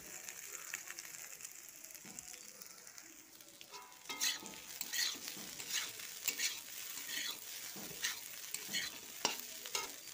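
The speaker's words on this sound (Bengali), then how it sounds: "তো ছোটো মাছে আর আলু দিয়ে ভেজে নিলাম" Small fish and potato pieces sizzle in hot oil with a steady hiss, while a utensil scrapes and stirs through the pan in repeated clattering strokes that grow busier partway through.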